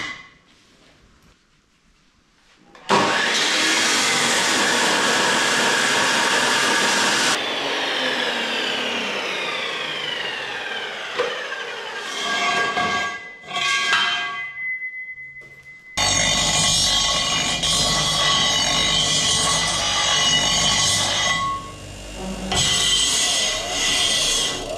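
A loud power tool whines and roars in a workshop while cleaning up freshly cut steel pieces for a firefighting trailer build, running in long sustained bursts with a pause, gritty scraping and a shift in pitch partway.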